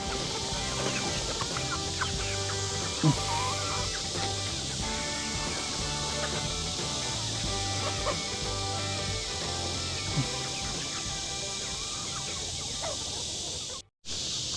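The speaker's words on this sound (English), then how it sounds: "That one's a rooster." Chickens cluck steadily over a busy, continuous farmyard background, with occasional sharper calls that could be a rooster.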